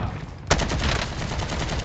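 AK-47 gunfire in the Call of Duty: Warzone video game, with a sharp shot at about half a second followed by a rapid burst of repeated shots, fairly close and loud against the game's background noise.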